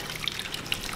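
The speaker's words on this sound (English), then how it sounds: "just squeeze out as much as the water as you can" Water trickles and drips as wet mohair wool is squeezed out by gloved hands, a faint, brief patter of small droplets.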